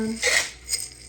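A lid goes onto a jar of dehydrated peas and carrots with two quick, close glassy clinks and a light scrape between them.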